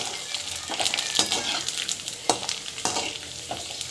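Homemade rice and sorghum papad fry in hot oil, giving a steady close sizzle. Sharper crackles and stirring scrapes cut through it every half second or so.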